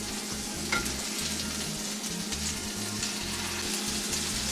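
Burger patties sizzle and crackle steadily in a hot pan, a soft, continuous fry at moderate distance with no voices.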